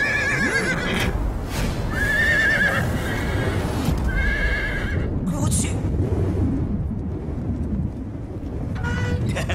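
Frightened horses whinny repeatedly in a stable during strong wind in a Chinese martial-arts action film, with hooves clopping and stamping, loud and close under a continuous rushing noise of wind.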